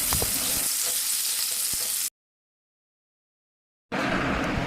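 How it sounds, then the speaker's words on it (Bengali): Chopped tomatoes fry in a pan with whole garam masala spices, giving a steady close sizzle with small crackles that cuts out into a brief silence before resuming. "তো টমেটোটাও ভালোভাবে ভেজে নেব"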